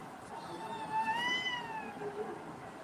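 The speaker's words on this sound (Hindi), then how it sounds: "घर के बाहर बिल्ली बोल रही है।" A cat meows outside a house, one drawn-out, wavering cry that rises and falls, heard faintly at a distance.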